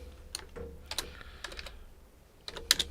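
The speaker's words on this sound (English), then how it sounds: "I can hear your keyboard." Keys on a computer keyboard tapped in sparse, irregular clicks during an online call, faint and somewhat distant over a low background hum, with a small cluster of sharper clicks near the end.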